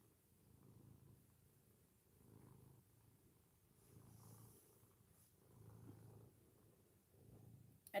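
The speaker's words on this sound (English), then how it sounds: "I don't know if y'all can hear him purring" Soft, low cat purring in slow rhythmic swells, about six rising and falling breaths, close and quiet.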